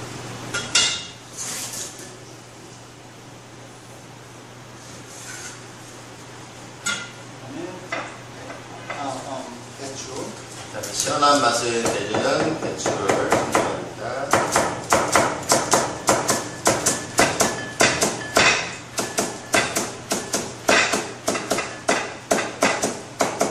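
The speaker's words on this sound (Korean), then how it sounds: "양파를 썰어서 준비를 해주시고요" Onions being sliced with a knife on a cutting board in a Chinese cooking school kitchen while preparing chive jjajang noodles: soft kitchen clatter at first, then a long run of quick, steady, close chops.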